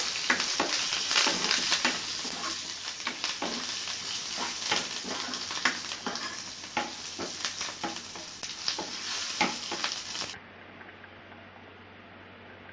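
Asafoetida and curry leaves crackle in hot oil for a tempering, a close, busy stream of fine pops and ticks with scattered stirring, then the sizzling drops to a quieter hiss near the end.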